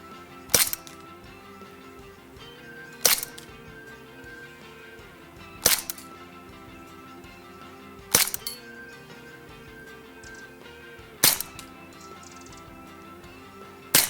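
A CZ 75 SP-01 Shadow airsoft pistol on a gas magazine fires six sharp, evenly spaced single shots in cold weather, each crack short and light, with quiet pauses between.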